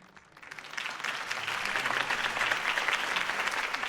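A crowd applauds at a Harvey Dent campaign rally in Batman: The Telltale Series, the clapping swelling quickly from a thin start into a full, continuous ovation.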